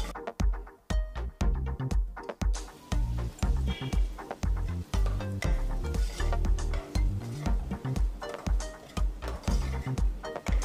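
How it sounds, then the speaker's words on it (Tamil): Onions and tomato fry in a pan for mutton masala, with a spatula repeatedly stirring and scraping the metal in quick, clattering strokes over a faint sizzle, close and busy throughout. "நல்லா ஆனியன் ஃப்ரை ஆயிடுச்சு இப்போ தக்காளி ஆட் பண்ணிக்கலாம்"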